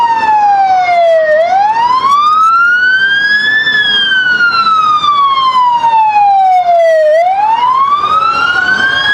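A loud siren wails continuously, its pitch rising and falling in long sweeping cycles as an emergency vehicle passes close by during a Christmas parade.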